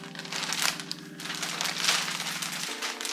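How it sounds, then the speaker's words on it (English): A clear Ziploc-type plastic bag is handled and unzipped, producing close crinkling and crackly plastic rustles in two bursts over a steady background hum. "It comes in this clear Ziploc type of a bag. It gives me Ziploc vibes for sure. So we're gonna unzip that."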